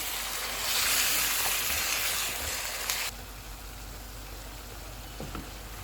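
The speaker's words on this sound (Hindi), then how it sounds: "कीमा डालेंगे, लहसुन का पेस्ट। कीमे का कलर चेंज होने तक इसको पकाएंगे।" Minced chicken with garlic paste frying in a pan gives a loud, steady sizzle for about three seconds, then drops abruptly to a softer, continuous hiss.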